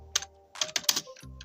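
Python code is typed on a computer keyboard in a few quick bursts of sharp key clicks, close and clear with short pauses between.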